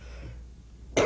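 An elderly woman, aged 83, gives a single short, sharp cough at the very end of a quiet indoor moment.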